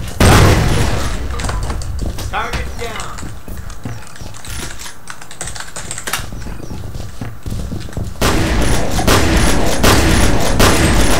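Video game grenade blast in a cramped dojo-style map: a loud booming burst surges near the end amid dense, continuous gunfire and crackling combat noise, with a voice talking over it.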